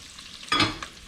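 Bacon frying in its rendered oil in a pot for chili, a brief burst of stirring and sizzling that swells up and fades within about a second, with no voices.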